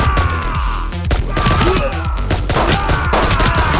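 Enemy gunfire in the video game Midnight Fight Express: dense, loud volleys of overlapping shots crackling almost without pause, with occasional heavier impacts mixed in.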